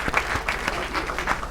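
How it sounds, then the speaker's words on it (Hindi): A studio audience at a televised talent show claps for a contestant, a dense burst of applause that runs throughout, close and lively. "एक बार जोरदार तालियां अंकित शर्मा के लिए यार।"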